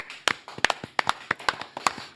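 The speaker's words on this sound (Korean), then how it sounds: "송철호 전 시장님 박수로 맞이합니다" Scattered claps from a small audience welcoming former Ulsan mayor Song Cheol-ho, a dozen or so sharp, uneven hand claps close by over a quiet room, with no talking.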